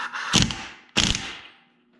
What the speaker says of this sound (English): We're gonna give it the impact gun technique.